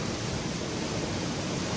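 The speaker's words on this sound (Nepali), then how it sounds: "यो पछाडि अब कस्तो दामी खोला कराइरहेको छ" A Himalayan river in Darjeeling roars nearby, a dense, unbroken rush of fast water that stays loud and even throughout with no other sounds.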